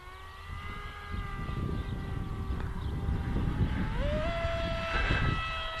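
An S800 Sky Shadow RC flying wing zips past on its maiden flight, its electric motor whining steadily and climbing sharply in pitch near the end, with outdoor wind rumble throughout.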